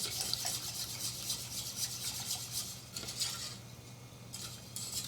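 A whisk works steadily through cheese sauce in a pan, giving soft continuous scraping and swishing, quiet and close, with a faint low hum under it.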